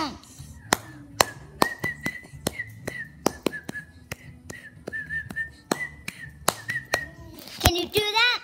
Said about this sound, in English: try to clap and whistle at the same time